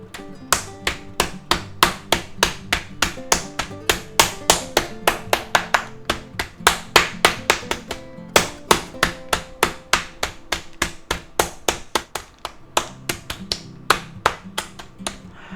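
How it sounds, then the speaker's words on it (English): A meat hammer pounds chicken flat inside a plastic bag, landing dozens of sharp, close thwacks in a fast, steady rhythm with brief pauses between bursts. "take our meat hammer and flatten that out"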